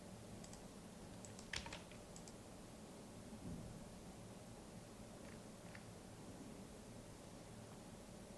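Typing on a computer keyboard while entering code for a React app, with a few quick clustered keystrokes standing out above a steady hiss of background noise. The keystrokes are faint and close by, and no one speaks.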